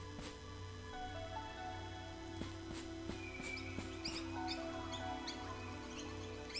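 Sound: birds singing in a video game forest

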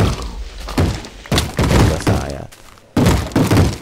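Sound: explosion in Minecraft Tekkit video game

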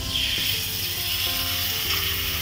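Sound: chicken sizzling as it is turned on a hot grill

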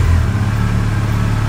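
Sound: Yamaha FJR1300 motorcycle engine running to warm up

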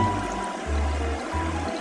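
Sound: water filling a cup from Minnie Mouse toy sink

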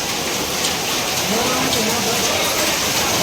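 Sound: large hailstones and heavy rain falling

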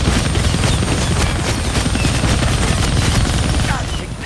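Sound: helicopter and gunfire in Deadpool video game

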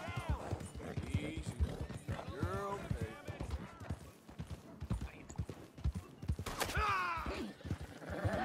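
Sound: Piebald Tobiano Hungarian Halfbred horse hooves in video game

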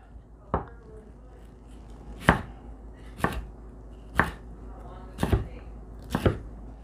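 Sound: knife cutting quail into strips

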